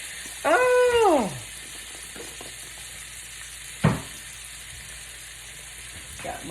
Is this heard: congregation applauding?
no